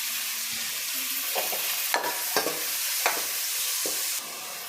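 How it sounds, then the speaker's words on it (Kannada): Chopped tomatoes go into a pan of frying onions and curry leaves, bringing a soft sizzle broken by several sharp scraping and stirring clatters, close and alone with no speech. "2 ಟೊಮೆಟೊ ಹಣ್ಣು ಸಣ್ಣದಾಗಿ ಕಟ್ ಮಾಡಿ ಸೇರಿಸ್ತಾ ಇದ್ದೀನಿ."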